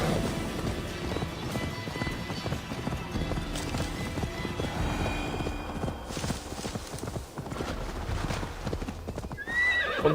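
A horse galloping in Assassin's Creed Valhalla, with rapid rhythmic hoofbeats that continue throughout, close and fairly loud, a brief whinny near the end, faint rain beneath and no talking.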